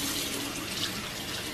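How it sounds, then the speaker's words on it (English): Tap water runs steadily from a faucet into a sink while a face is being wet, a continuous close splashing hiss with no talk over it. "Go ahead and wet your face."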